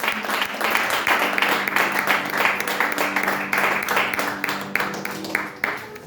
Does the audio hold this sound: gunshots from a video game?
no